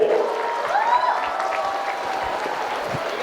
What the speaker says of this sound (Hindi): आप एक बार जोरदार तालियां इन बच्चों के लिए।